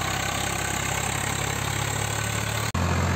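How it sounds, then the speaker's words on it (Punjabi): A Blue Horse 855 diesel tractor engine idles steadily at 1600 rpm at close range, a constant low rumble with a brief dropout near the end before it resumes. "1600 ਆਰਪੀਐਮ ਤੇ ਚੱਲੀ ਜਾਂਦਾ ਟਰੈਕਟਰ"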